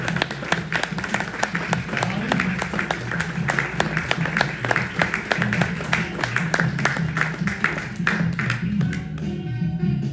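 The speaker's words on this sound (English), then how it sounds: "We get a warm round of applause for our good friend Bobby." A small audience at a regional history talk claps warmly for a guest, a dense run of close claps with voices and chatter beneath, tapering off near the end.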